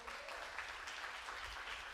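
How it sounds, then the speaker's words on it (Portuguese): A church congregation applauds, producing a soft, distant wash of clapping, faint and smeared as if heard from across a reverberant hall, steady for the short duration. "Dá um aplauso do Senhor"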